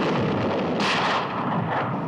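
Gunfire in a French audio drama, a dense crackling volley of shots that flares sharply partway through, loud and close, with no speech.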